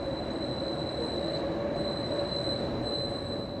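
The Chicago holiday train rolls past with loud, sustained high-pitched wheel squeal over a steady rumble of railcars, constant and close throughout, with no talking.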